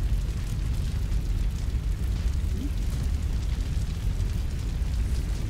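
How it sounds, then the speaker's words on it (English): A loud fire roars in a Fallout mod game, a continuous heavy rumbling crackle with a deep low-end boom, steady throughout with no talking. "Man, that fire is loud."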